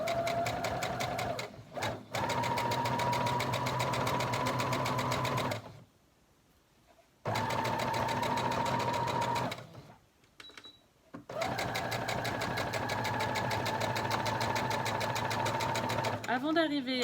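Domestic sewing machine stitching a straight seam along a fabric face mask, its steady motor whir and rapid needle clatter running in long bursts with short pauses between.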